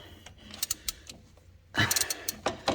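A crow's foot line wrench works the lines on a Dodge power steering box, giving a series of close metallic ratcheting clicks and clinks, sparse at first, then a louder busier burst of clanks.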